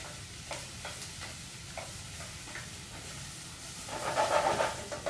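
Garlic in a hot pan, a steady sizzle with soft stirring scrapes, rising into a louder hiss near the end, with no talk.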